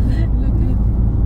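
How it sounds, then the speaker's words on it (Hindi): Road traffic heard from inside a moving vehicle, a loud, dense low rumble of engines and tyres with a brief higher whine at the start. "ट्रैफिक है ना स्लो चलेगी"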